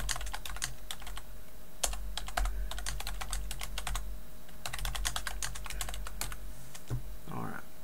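Fingers type on a computer keyboard in quick, steady runs of close, crisp key clicks, pausing briefly between bursts over a low background hum.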